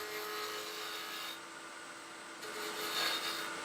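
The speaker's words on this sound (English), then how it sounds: "I'm using a 1/2 inch spindle gouge" A half-inch spindle gouge cuts into wood spinning on a lathe while a woodturner shapes an ornament, making a close, steady scraping hiss that dips briefly and then swells again.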